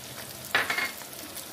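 Minced meat and onion sizzling in a pan, a short burst of frying hiss about a second long, close and fairly loud after a quiet start, with no talking.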